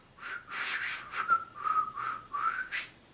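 A breathy, airy attempt at whistling the Ed, Edd n Eddy theme that keeps failing, giving several short hissing bursts with faint thin tones rising and falling in a close, quiet room.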